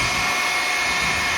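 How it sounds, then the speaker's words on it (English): A blow dryer roars at close range as it dries paint, giving a loud, even, unbroken whir with a faint high whine running throughout and no talking. "I'll hit it with the blow dryer."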